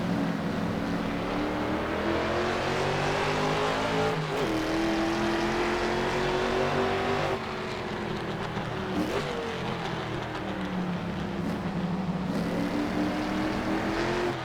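A 1966 Shelby Mustang GT350R engine drones loudly and continuously in a racing game at a 1960s Marlboro circuit, its revs rising and falling through shifts and corners with no talking over it.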